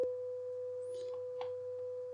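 A steady, pure sine-wave test tone from a signal generator, used while restoring a Grundig Type 90U tube radio, holds one unbroken pitch throughout with faint background noise and a few soft clicks.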